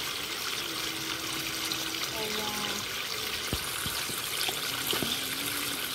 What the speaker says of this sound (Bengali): জল সব পড়ে যাচ্ছে রে